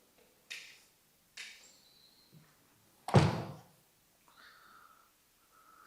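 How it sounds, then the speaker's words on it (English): A door swings open in a show apartment with veneered wardrobes at a Hauz Khas site: a few soft clicks and handling taps, then one loud, close thunk, with faint rattles after and no talk. "Please open the door."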